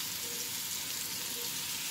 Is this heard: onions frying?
yes